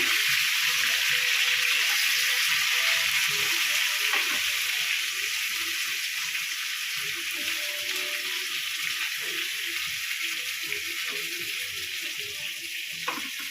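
Eggplant frying in oil in a pan for North Karnataka style yenne badanekai, a steady close hiss and sizzle running throughout with no voices.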